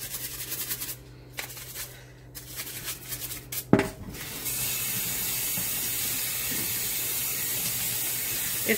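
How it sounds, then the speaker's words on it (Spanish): Ninja blender blades being rinsed under a running kitchen tap, first intermittent clattering and splashing as the parts are handled, then a steady loud stream of water pouring into the sink, close and without talk. "Y pues, así es como realmente se lava la ninja."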